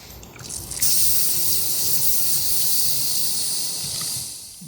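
A loud, steady hiss and gush of boiling water at a hot spring site near Rimrock Lake rises suddenly and holds, bubbling and steaming up close with no voices.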